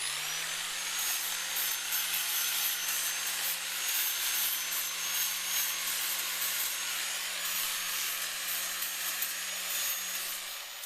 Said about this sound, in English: we're going to use this to deburr the edges of the metal so we don't have sharp edges